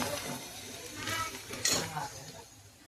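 Onions frying in a pan with a soft, low sizzle, broken by stirring scrapes and a couple of light metallic clinks from a utensil against the pan.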